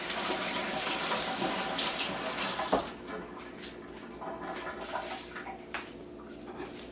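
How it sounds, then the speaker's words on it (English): Tap water runs steadily into a sink during handwashing in a home kitchen, a continuous splashing hiss that is loudest at first, briefly bumps, then continues a little softer to the end, with no talking. "let me wash my hands"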